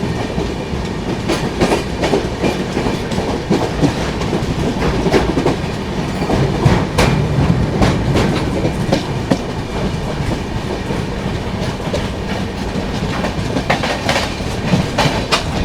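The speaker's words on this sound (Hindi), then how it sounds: "बगल से क्रॉस हो रही है इंडिया की longest running Humsafar express, Bangalore Agartala Humsafar express" The Bangalore–Agartala Humsafar Express passes alongside on the next track, a loud, steady rumble with continuous clickety-clack of wheels over rail joints lasting throughout, with no talking.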